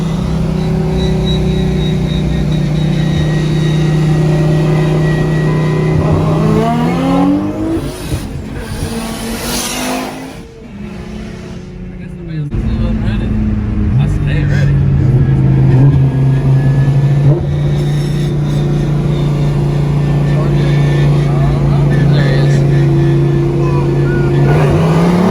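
A twin-turbo Viper street-racing car rumbles loudly nearby, building revs to a surge, easing back, then settling into a strong, steady drone, with voices heard at times.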